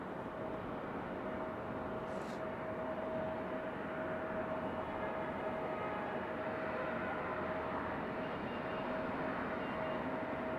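American Airlines flight 2660 arriving from DFW at Raleigh-Durham International Airport, a steady distant jet engine rumble and roar held evenly throughout with a faint whine riding above.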